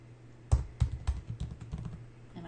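Keys clack on a computer keyboard as someone types a web address into a browser, a run of sharp, uneven taps up close with a few louder strokes and no talking.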